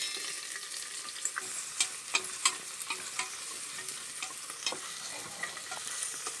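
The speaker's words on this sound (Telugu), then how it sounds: "ఇప్పుడు ఉల్లిపాయ ముక్కలు వేస్తున్నాను." Onion pieces and green chillies frying in oil for a vegetable biryani, a steady close sizzle broken by scattered crackles and pops as the pan is stirred, with no talk.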